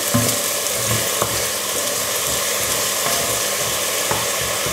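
Venison stew frying and sizzling in a pot, stirred with steady scraping strokes; a continuous close sizzle with periodic stirring knocks, no talking.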